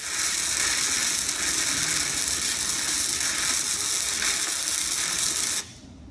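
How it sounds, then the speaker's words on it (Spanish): Gasless flux-core wire welding with a steady, loud crackling sizzle that runs continuously for over five seconds, then cuts off abruptly, leaving quiet. "Arrancamos, que empezamos a soldar."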